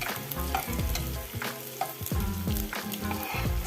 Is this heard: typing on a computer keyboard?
no